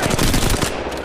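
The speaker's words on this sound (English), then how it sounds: "Firing. Enemy down. Firing!" Loud automatic gunfire from a match in the mobile game Apex Legends Mobile, a fast close burst of rattling shots lasting about a second.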